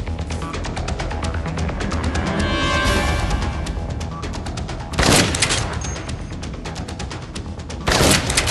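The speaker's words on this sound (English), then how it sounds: "Someone's shooting from the floor above" Rapid gunfire in the video game Dead Rising, a dense burst of shots from the floor above, loud and continuous, with a couple of heavier blasts standing out.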